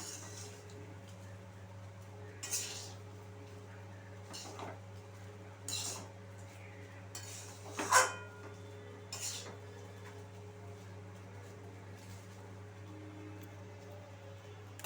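Cooked rice being mixed with vegetables in a pan over a medium gas flame, heard as faint, sparse scrapes and clinks of a utensil against the pan over a quiet background hum.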